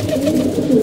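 Adult and young pigeons kept together during the rainy season give a brief low, throaty coo, close and fairly loud, lasting under a second.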